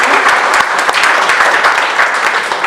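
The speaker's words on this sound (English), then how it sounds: "we should give a big round of applause to Paramjeet sir for being able" Audience gives a big round of applause, a dense, continuous patter of many hands clapping, loud and close with no talk over it.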